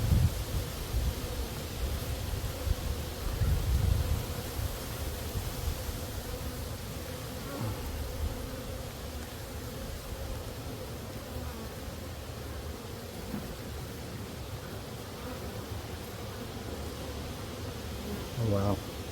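Honeybees buzz inside an opened beehive during a pre-winter check, a continuous low hum with the odd louder pass of a nearby bee, joined by a few soft rustles and bumps from handling the frames.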